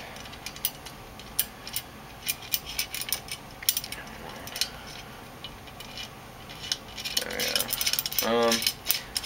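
Bolts are tightened on a motorcycle stand, quiet ratcheting clicks and metallic ticks in irregular bursts, with a denser rasping stretch near the end.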